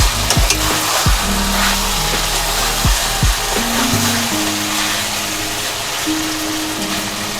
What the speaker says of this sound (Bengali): পুরো ঝোলটা শুকিয়ে নিতে হবে। মাংসটা পুরো কষা কষা করে নিতে হবে।